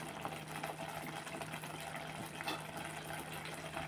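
Water is poured into a pan of raw prawn curry cooking in oil, a steady splashing gush that continues for about four seconds at moderate loudness with no talking.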